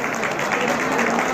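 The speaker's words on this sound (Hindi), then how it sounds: "एक बार जोरदार ताली बजाओ भाई" Brief burst of dense crowd applause from an audience at the sixteenth anniversary celebration of the Shri Shriyade Mata temple in KR Puram, Bengaluru, with voices mixed into the clapping.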